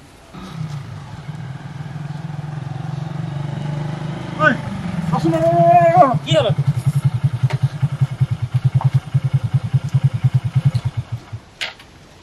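A motorcycle engine idles with a low rumble, revs with a rising whine, then settles into a throbbing pulse as it pulls away, with faint voices in the background.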